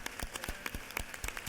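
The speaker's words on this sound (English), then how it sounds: "can you please rise and give them a round of applause?" Applause rings out in a state House legislative chamber during a floor session, with brisk, scattered claps from many hands. It stays steady and moderately loud, with no voices over it.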